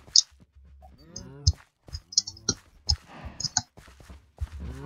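Many cows moo in a video game farm, several drawn-out lowing calls overlapping at varying distances, mixed with short high clicky game sounds and soft footsteps.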